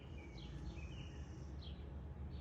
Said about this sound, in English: Enjoying listening to the birds with them.